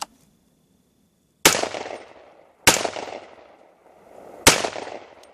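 A 300 Blackout rifle fires Lake City rounds from a Magpul magazine outdoors, three loud sharp shots spaced about a second apart, each trailing off in echo.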